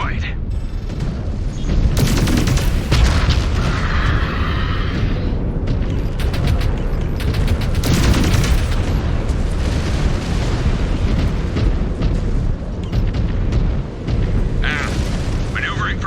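Mech blowing apart in the MechWarrior 5 Clans video game, heavy booming blasts and rumbling bursts recurring over a dense wash of battle noise and game sound, loud and close throughout.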